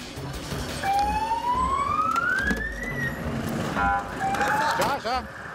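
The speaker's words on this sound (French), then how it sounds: "Allume, tu peux mettre la sirène." An emergency vehicle's siren rises in a long wailing sweep through a tense street scene in São Paulo, loud and close, with crowd noise and people talking underneath.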